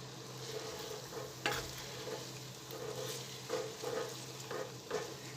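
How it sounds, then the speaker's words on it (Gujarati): Sabudana khichdi being stirred in a pan, soft scraping strokes over a faint low sizzle, fairly quiet with a few more distinct stirring pulses and no speech. "બધું સરસ મિક્સ કરી લઈશું।"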